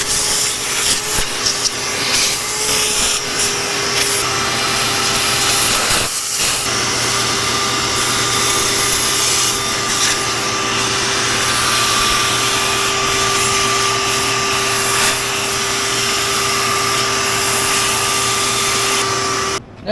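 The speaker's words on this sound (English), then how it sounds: "I got a little 1 gallon shop vac" A small 1-gallon shop vac runs steadily near a Grizzly metal lathe, sucking up metal chips with a loud continuous whine and hiss, occasional rattles of chips being drawn in, no talk.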